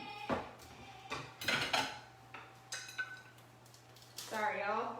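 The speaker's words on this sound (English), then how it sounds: "now let me grab this pan over here" A metal pan is lifted and set down in a home kitchen while sweet potato tacos are being made, giving a few quiet clanks and clinks that stand out over a steady low hum, with brief talk between them.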